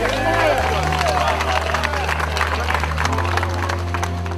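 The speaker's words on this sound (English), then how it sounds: "They were cheering" A crowd cheers and shouts continuously with dense overlapping voices, under a steady low rumble of a nearby engine.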